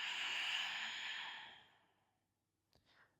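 A long, breathy exhale during a foam-roller breathing exercise, close and airy, fading out over about two seconds before a brief soft intake of breath.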